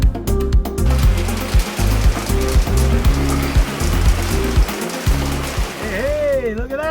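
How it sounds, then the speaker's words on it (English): Steady storm rain patters and splashes close by in Daka, with a person talking excitedly over the downpour. "Hey, look at that! It's finally raining!"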